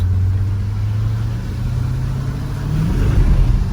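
BMW Z8 engine revving while the wheels spin, giving a low, close engine drone that rises in pitch and then swells louder near the end, with no talking.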